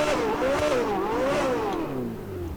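A modded car engine in GTA 5 revs up and down in smooth, loud sweeps, its pitch rising and falling a few times before easing off, with no voices.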